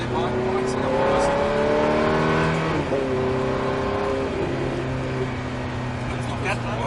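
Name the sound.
Ferrari F430 accelerating on a race track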